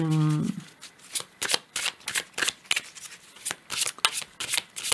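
Oracle cards riffled and shuffled close up, a quick run of crisp papery flicks and slaps in an irregular rhythm after a brief voiced sound at the start.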